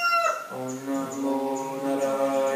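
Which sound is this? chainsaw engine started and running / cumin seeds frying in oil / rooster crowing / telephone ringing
rooster crowing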